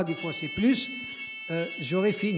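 A steady, high electronic buzzer or alarm tone sounds during a French-language talk at a discussion session, holding evenly through the whole stretch while a speaker keeps talking over it.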